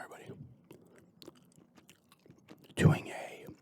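Someone chews gum while softly talking, with faint wet clicks and smacks scattered through the speech and one louder, closer burst near the end.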